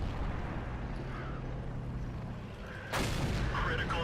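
A tank cannon shot in World of Tanks, a sudden loud boom cutting in partway through over steady engine rumble and game noise.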